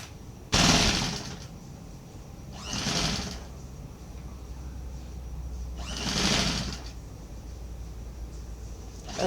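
A sewing machine stitching the waistband of baby shorts: three separate short bursts of close, rattling machine noise, spaced a few seconds apart, with quiet gaps between them and no talking.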